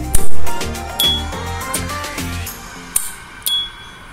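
An S.T. Dupont D139T lighter in white with a square pattern clicks open several times, each snap ending in a clean, high, sustained ping, near and distinct over background music.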